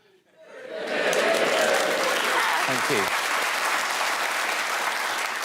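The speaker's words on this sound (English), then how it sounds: "that cheer's not going to make any sense to anybody watching" A television panel-show studio audience breaks into loud, sustained cheering and applause that swells quickly and holds steady, with a brief spoken word of thanks under the noise.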